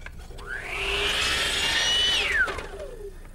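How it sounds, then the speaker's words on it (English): A power saw set to a 45 degree bevel cuts across the end of a wooden cleat: the motor whines up, holds a bright, loud cutting tone for about two seconds, then winds down. "I've turned my saw to 45 degrees to cut the bevel on the end."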